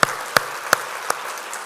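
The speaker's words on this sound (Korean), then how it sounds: "우리 박수 한번 쳐드립시다." Four sharp, evenly spaced hand claps ring out in a church congregation during a Sunday worship service, sparse and slow rather than a full round of applause, with no talking.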